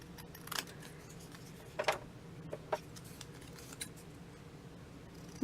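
Scissors trim slivers off a small printed image for a handmade domino book, giving a few quiet, separate snips and paper rustles in a hushed room, with a louder bump at the end.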